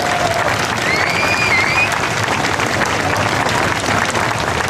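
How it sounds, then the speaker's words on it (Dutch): Loud, sustained audience applause after an outdoor pop concert at the World Port Days 2012 on the Elbe, a dense wash of clapping with a faint whistle rising briefly early on. "U geeft ze nog een fantastisch applaus."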